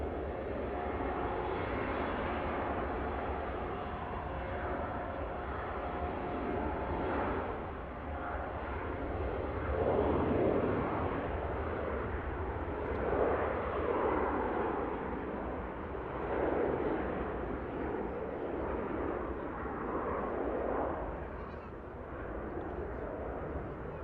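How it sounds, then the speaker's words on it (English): A Finnair airliner takes off from runway 23 left at Manchester Airport and climbs out, its engines a broad, sustained roar that swells and ebbs, somewhat distant, with no talking. "Finnair climbs out from 2-3 left"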